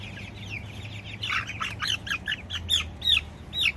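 Young chickens on a farm squawk in rising alarm as a small one is caught, a run of sharp, frantic cries that grows louder and more rapid, close by, with no talking.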